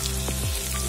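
Ground coriander, cumin and turmeric powder fry in an oil-filled pan for an Assamese fish curry, giving a steady, close, dense sizzle with a soft crackle throughout and no talking.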